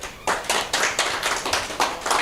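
An indoor audience claps for a guest, a short burst of dense applause from many hands, fairly close and steady throughout.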